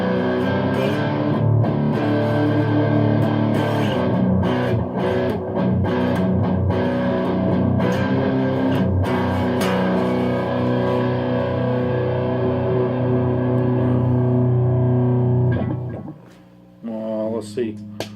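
Ibanez Artcore AGS83B semi-hollow electric guitar with split pickups driven through a Wampler high-gain distortion pedal, playing thick, saturated sustained chords and riffs loudly for about sixteen seconds before cutting off to a few quieter plucked notes.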